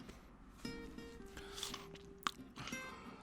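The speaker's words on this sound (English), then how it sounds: "I'm gonna chew my cough drop now" A cough drop being chewed close to the mic, with a few soft crunches and bites over low background hum and a brief sharp click partway through.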